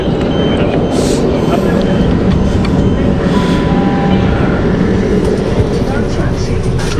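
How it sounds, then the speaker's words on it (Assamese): A train pulls into Portsmouth and Southsea station, producing a loud, continuous low rumble and mechanical drone that stays steady from start to finish. "So finally our train ahi gol. Oh no, our train is here."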